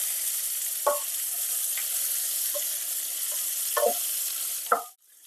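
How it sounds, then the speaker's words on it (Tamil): Chopped onions sizzle steadily in a hot pan, with a few spoon scrapes stirring through them, before the sizzling suddenly cuts off. "நறுக்கி வச்சிருக்கிற வெங்காயத்தையும் சேர்த்து நல்லா வதக்கிக்கலாம்."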